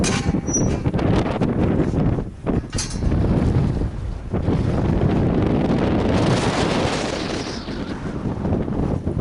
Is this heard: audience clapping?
no